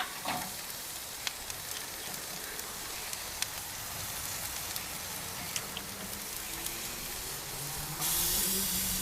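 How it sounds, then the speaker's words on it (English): Steady, crackling sizzle as garlic butter is basted over lamb steaks on an outdoor open-flame grill in woodland, with sharp pops scattered throughout and a louder hiss surge at the end. "So we're going to baste the concoction over the lamb steaks."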